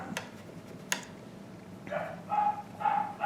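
Puppies playing indoors give a run of three quick, moderately loud play barks toward the end, after a couple of sharp taps or clicks earlier, with no voices present.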